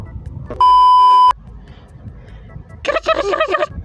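A steady electronic ring tone from a telephone in Minecraft sounds once for under a second, followed by a short burst of babbling voices.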